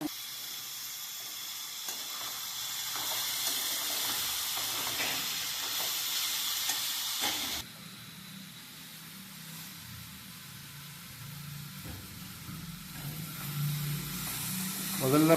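Okra (ladies finger) sautéing in a pan for a tomato gravy, a steady bright sizzle and hiss that drops off halfway through, then continues more quietly beneath a speaking voice.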